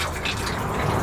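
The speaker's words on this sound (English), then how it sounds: "The water works on a water pump," Water runs briefly from an RV sink tap fed by a water pump, a steady close splashing hiss lasting about a second.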